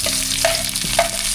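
Onion sizzles in hot oil in a short, close burst of steady frying crackle, with a couple of quick stirring scrapes against the pan.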